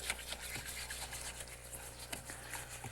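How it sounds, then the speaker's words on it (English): A wire whisk stirs a half-frozen dessert into slush, making a continuous scratchy, swishing scrape with rhythmic strokes, fairly faint over a steady background hum. "When it's about halfway frozen, take it out of the freezer and wire whisk it like this"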